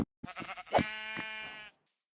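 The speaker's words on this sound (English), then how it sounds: "I spot sheep hanging out in a nearby forest" A Minecraft sheep in a forest gives two short bleats, clear and close, with a quavering tone and silence after.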